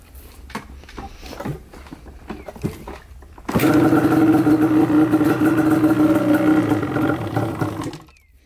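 A Yamaha Banshee ATV is kicked over a few times with scattered clunks. Its two-stroke engine then catches and settles into a loud, raspy, close idle that holds for several seconds before cutting off.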